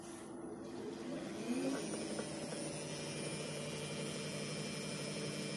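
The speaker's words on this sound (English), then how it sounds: "You can hear the motor is running" A Shinegle 384V 120kW electric motor with gearbox runs in reverse, giving a steady, continuous whine with a slight rise in pitch partway through, close and constant throughout.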